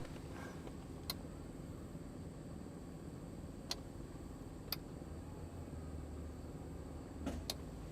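Power antenna motor on a 1967 Cadillac Eldorado, a faint, steady electric whir with a few sharp, isolated clicks spaced irregularly, heard alone.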